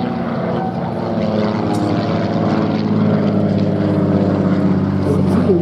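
Cosmic Wind racing plane, a small single-engine propeller aircraft, flying at the Duxford air show; a steady, loud engine drone with a faint Doppler waver carries throughout.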